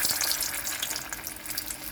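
Gram-flour-battered okra frying in hot white oil, a continuous bright sizzle and crackle up close, steady and fairly soft with no voices.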